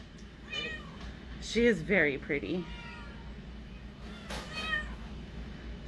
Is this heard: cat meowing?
yes